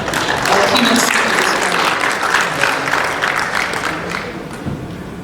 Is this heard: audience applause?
yes